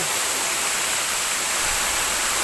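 Nibaa Waterfalls in Aparicio, Ibajay roar with a loud, constant hiss of falling water that fills the whole moment, steady and close, with no voices.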